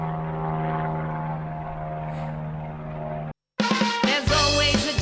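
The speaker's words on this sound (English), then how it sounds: "the plane is there" A propeller airplane passes overhead, a steady droning hum for about three seconds that cuts off abruptly, followed by a burst of unrelated music.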